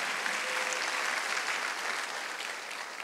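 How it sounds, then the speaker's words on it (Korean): A church congregation at a Korean Wednesday worship service claps together in a steady, even roar of applause that holds for about three seconds. "박수하세요."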